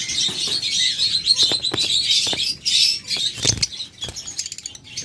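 Opaline budgerigars in a cage chirp and twitter in quick, overlapping bursts, close and lively, with brief rustles and flutters among the calls.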